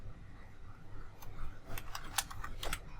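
An SQL insert query being typed on a computer keyboard: a loose run of crisp, close key clicks that grows busier and louder toward the end, with no voices.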